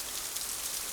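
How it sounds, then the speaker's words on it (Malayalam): Rain falls steadily in a movie scene, a dense even hiss of raindrops with no other sounds over the full second. "മഴ മാറിയില്ല"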